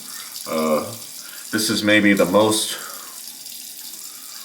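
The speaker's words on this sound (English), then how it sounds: "So let's get some warm water on the face" Warm tap water running into a sink, a splashy hiss that comes and goes under a man's speech, fairly close.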